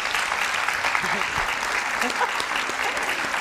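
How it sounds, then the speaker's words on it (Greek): Studio audience applause on a Greek television show, dense steady clapping filling the whole stretch at an even, moderately loud level, with a voice briefly audible over it. "Ένα χειροκρότημα παρακαλώ για τον παοκτσί."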